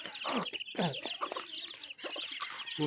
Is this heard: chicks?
yes